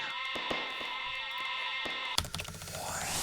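Sheep in the video game Lemmings Paintball, bleating in a few short, tonal game sound effects over steady background music, followed by a sudden burst of noisy clatter near the end.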